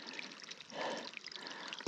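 Water is scooped and collected from a mountain stream during a solo multi-day hike, a soft close pour and trickle with a brief gurgle midway, faint and quiet with no talk.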